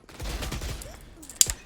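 Rapid burst of Stinger submachine gun fire in the Valorant video game, a short quick string of sharp shots followed by a brighter crack, fairly quiet overall.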